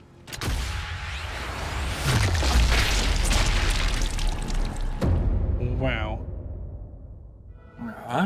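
A grenade goes off in the World War II shooter game Sniper Elite 5 as a deep booming blast that rolls and fades over several seconds, with someone speaking briefly near the end.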